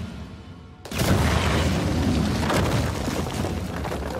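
A sudden loud explosion in the video game Uncharted 4 erupts after a quiet moment, then rolls on as a sustained rumbling, crackling roar with debris-like noise that stays loud to the end.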